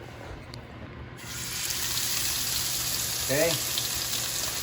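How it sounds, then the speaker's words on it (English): Steak searing in a hot pan, a steady broad sizzle that starts up about a second in and keeps going, with a brief spoken word over it. "Okay, now that our pan is hot, we're gonna sear our steak."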